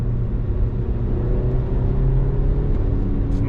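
An Audi Q3 of about 220 horsepower accelerates hard, giving a loud, continuous engine drone with a low rumbling hum heard from inside the car.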